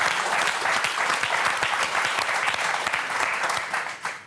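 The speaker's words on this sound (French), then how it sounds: "on vous applaudit très fort" Audience on a French TV game show applauding the contestants, dense steady clapping that runs throughout and tapers off at the end.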